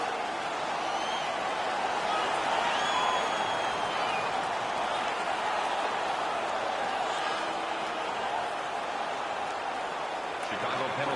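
Hockey arena crowd at a Chicago Blackhawks home playoff game against the Winnipeg Jets roars after a fight win, a dense, loud, sustained wash of cheering, with a commentator talking over it.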